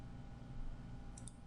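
Computer mouse clicks while working in CAD software: two quick, faint clicks near the end over a steady low electrical hum.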